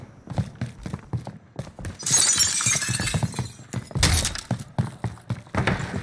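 Glass windows shatter in the shooter game Call of Duty Warzone during a Rebirth quads match: two loud bursts of breaking glass crash among rapid footsteps and gunfire-like thuds, close and busy, with no talking.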